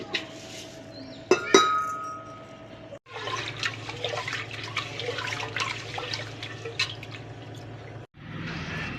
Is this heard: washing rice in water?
yes